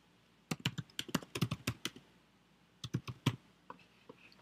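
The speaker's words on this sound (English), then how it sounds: "I'm going to type All About John" Keys on a computer keyboard are typed in close, quiet bursts of rapid clicks with short pauses between groups.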